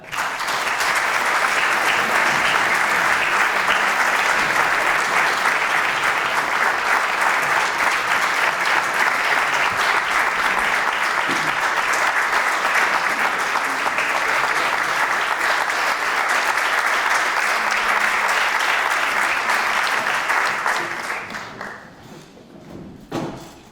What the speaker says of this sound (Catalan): passem a rebre amb un fort aplaudiment